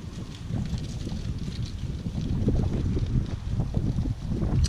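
Outdoor wind on a sunny day in Arkansas, gusting and buffeting the microphone in low rumbling bursts that swell and ease, moderately quiet with no voices.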